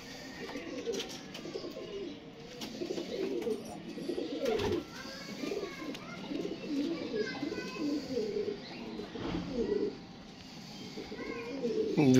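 Pigeons, a paired male and female, coo in low repeated throaty phrases close by, with faint chirps around them and someone talking over the birds throughout.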